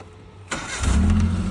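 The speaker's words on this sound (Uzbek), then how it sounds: "Mashina yarimtaga o't olyapti." A car engine starts after a half second of quiet: the starter cranks briefly, then the motor catches and settles into a low, steady idle close by.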